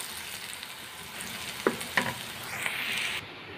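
Onions and green chillies fry in a pan for a golden-brown finish, a steady soft sizzle with two sharp stirring scrapes near the middle and a brighter hiss before it cuts off.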